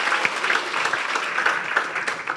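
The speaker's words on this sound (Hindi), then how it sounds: "मैं चाहता हूँ वर्शिप टीम के लिए एक दफ़ा फिर से हम जोरदार तालियां बजाएं।" A church congregation claps steadily and enthusiastically for the worship team at a Pentecost service, a dense wash of applause throughout the short clip.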